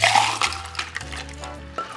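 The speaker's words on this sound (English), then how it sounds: "just pour it in between both vessels" A Prosecco and peach cocktail rolled by pouring it back and forth between two vessels, making a close splashing, gurgling pour of liquid that runs steadily for about two seconds.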